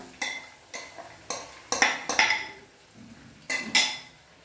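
Sago pearls tipped into a pan of cooked potatoes, heard as a series of sharp clinks and scrapes of a utensil against the pan, roughly eight distinct knocks spread unevenly, close and moderately loud with no talking.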